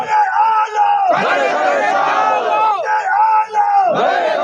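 A large crowd at a Bangla religious sermon gathering roars the takbir chant in unison, swelling in loud repeated waves, with a leading voice calling between the responses.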